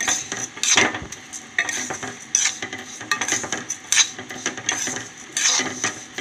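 Vermicelli fried and stirred in a pan for semiya payasam, giving repeated scraping and clinking of a utensil against the pan in uneven bursts over a soft sizzle, close and fairly loud with no talking.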